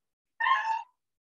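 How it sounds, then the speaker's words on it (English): A house cat gives a single clear meow, close and moderately loud, about half a second long against complete silence. "That was my cat."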